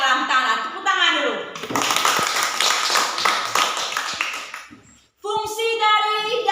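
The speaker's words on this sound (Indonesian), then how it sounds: "Tepuk tangan dulu." A classroom of children clapping hands together in short bursts, loud and close, mixed with children's voices and an adult speaking.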